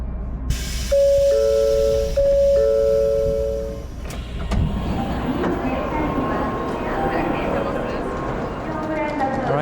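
A two-tone station chime sounds twice at Kyoto Station, then a busy train arrives with a steady rumble and rising mechanical noise under a bustling crowd and nearby voices.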